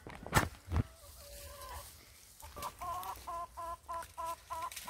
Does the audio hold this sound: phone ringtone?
no